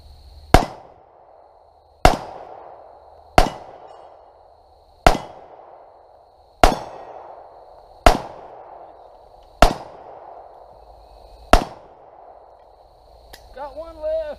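Nine sharp, loud pistol shots from a CZ Scorpion 9mm and a Colt 1911 crack outdoors at a slow, steady pace about a second and a half apart, each followed by a short ringing decay, with a voice at the end.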